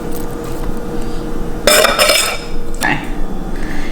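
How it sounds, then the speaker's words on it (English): Potatoes tipped into a metal grill pan in a home kitchen give two short bursts of clattering and scraping, one longer and one brief, over a steady low room background. "now I'm getting ready to put these potatoes in the grill pan"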